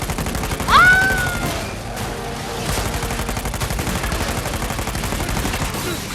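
Gunfire aimed at a tire in Uncharted 4, heard as rapid, loud, repeated shots in a dense burst that runs throughout, with a brief whistling tone early on.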